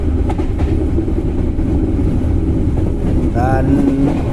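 Inside a moving Indonesian passenger train, the Bengawan from Cikarang station, a constant low rumble and rattling of the carriage continues, with a brief squeal near the end.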